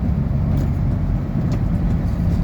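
A car climbing onto a bridge hums with a steady, loud engine and road rumble, continuous and close from inside the vehicle, with no speech.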